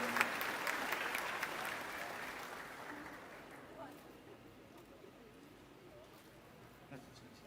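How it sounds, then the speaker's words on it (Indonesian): Audience applause at a public Q&A event, loud at first and gradually fading over several seconds into quieter room noise. "Tepuk tangan dulu dong teman-teman."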